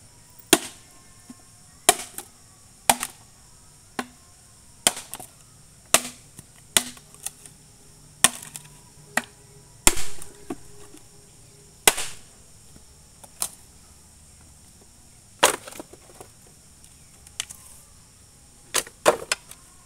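A golok machete chops through hard gombong bamboo in sharp, isolated strikes, about twenty spread unevenly over the span. Each impact is crisp and close against quiet outdoor background, with no talking.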